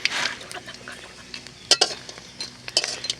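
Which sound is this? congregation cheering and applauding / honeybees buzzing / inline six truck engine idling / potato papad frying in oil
potato papad frying in oil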